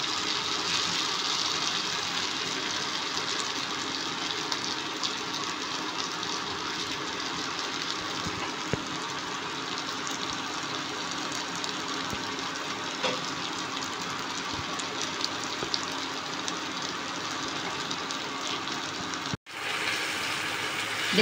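Onion and spices frying in a pan make a continuous even sizzle, broadband hiss with occasional small pops, cutting out briefly near the end.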